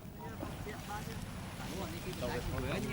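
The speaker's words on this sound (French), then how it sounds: "le vent souffle un peu" Soft, gusty wind buffeting the microphone with low rumbling, outdoors where a Khmer musical kite is flown, while people speak quietly in the background.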